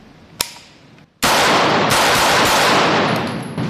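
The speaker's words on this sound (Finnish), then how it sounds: "Ammutaan vähän lisää." A Heckler & Koch SP5k 9mm pistol fires one sharp, loud crack, then a dense and sustained burst of close, loud gunfire follows.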